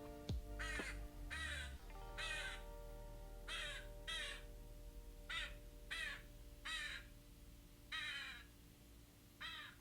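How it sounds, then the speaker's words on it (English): Crows caw repeatedly outside at night in Portland, a run of loud harsh calls in irregular bursts over a constant low hum, with no talking. "I can't sleep at night when I'm in Portland because these birds are outside going crazy"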